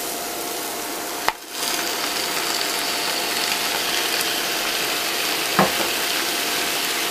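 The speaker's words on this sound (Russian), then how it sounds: "И теперь можно сюда выливать уже томат." Tomato paste poured into stewed cabbage frying in a pan on the stove, a steady loud sizzle throughout, broken by a sharp clunk near the start and a softer knock toward the end.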